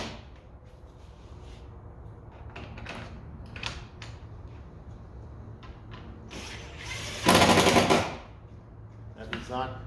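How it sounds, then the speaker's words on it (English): A cordless drill driver whirs in short bursts, then a louder sustained run as a bolt drives home on a Jeep JL roll bar cover, with ratcheting mechanical clicks throughout. "We're going to cheat and use our drill driver here."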